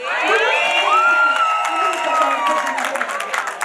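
Women at a Rwandan wedding ululate in high, trilling, wavering cries that rise together over a cheering crowd, loud and close, with scattered clapping and shouts mixed in.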